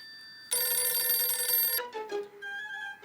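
A telephone rings as a call is placed in a sitcom scene, giving a bright, loud burst of ringing that cuts off abruptly and is followed by softer tonal beeps.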